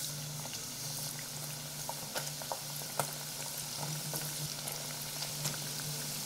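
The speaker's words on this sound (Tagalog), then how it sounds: "Pirituhin natin to into low heat para hindi agad masunog yung breadcrumbs natin." Breaded fish fillet frying gently in oil over low heat, a steady soft sizzle with scattered small pops and crackles, close and fairly quiet.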